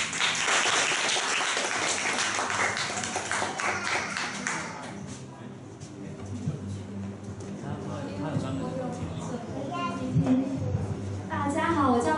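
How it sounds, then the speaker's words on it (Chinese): Audience applause welcoming the next presenter at a two-minute self-introduction event in Taichung. Dense clapping fills the first few seconds, then fades as a voice begins talking. "我们掌声欢迎"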